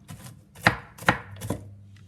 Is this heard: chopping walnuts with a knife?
yes